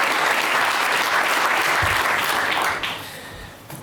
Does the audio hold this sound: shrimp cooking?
no